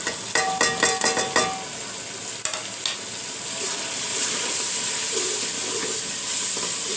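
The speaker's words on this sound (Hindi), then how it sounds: "अब इसको 3 मिनट तक भूनूंगी।" Tomatoes, black pepper and spices frying for a Pakistani beef pulao, stirred with a few clicking utensil taps at first, then a steady close sizzle with steam filling the rest.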